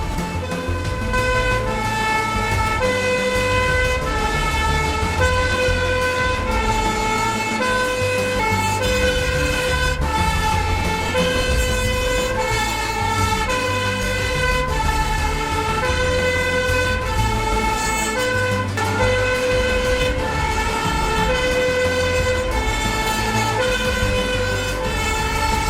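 Fire engine and ambulance sirens responding to a road accident where a motorcycle struck a car, a loud sustained two-tone wail repeating steadily for the whole stretch with no speech over it.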